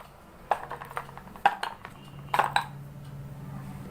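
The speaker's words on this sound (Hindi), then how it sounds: "आप ले लें कोई भी बर्तन, और इसके अंदर आप अपने दियों को डाल दें।" Used clay diyas are dropped one by one into a vessel, giving a quiet scatter of sharp clinks and taps, a few isolated hits followed by a quick cluster, close and otherwise still.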